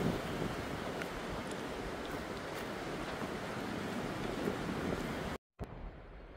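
Wind and water noise outdoors on a hiking trail on the Appalachian Trail in North Carolina, a loud, steady rushing roar with wind buffeting the microphone, cutting out briefly near the end.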